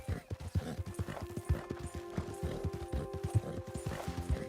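Galloping horse hooves from Red Dead Redemption II pound in a steady, fast rhythm of heavy thuds, loud and close, with a faint game hum underneath.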